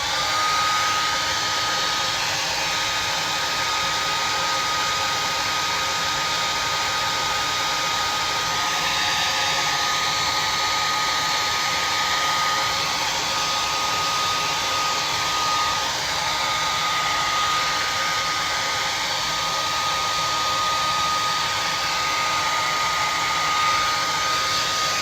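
A hair dryer blows steadily and loudly for the whole stretch over acrylic paint on a painted Easter bunny gnome, with no talk and only slight shifts in its whine.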